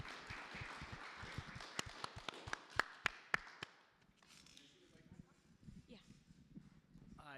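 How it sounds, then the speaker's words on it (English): Audience applause at the close of a science funding conference session in Boston, a dense patter of clapping that swells and then fades out, followed by quieter room noise. "let's give them our last round of applause to our last speakers"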